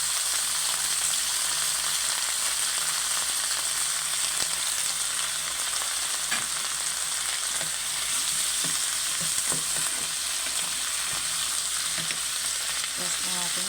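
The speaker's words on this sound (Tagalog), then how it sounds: "Lagay natin yung ating ampalaya." Ampalaya, bitter gourd, sizzles loudly in a hot pan with a constant hissing fry, while a utensil scrapes and stirs in irregular knocks throughout, with no talking.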